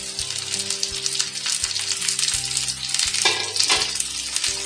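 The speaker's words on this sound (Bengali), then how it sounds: "পেঁয়াজটাও ভাজা ভাজা হয়ে গেছে" Onions fry in oil in a pan, crackling and sizzling loudly up close while rhythmic low knocks, like a spoon stirring against the pan, repeat throughout.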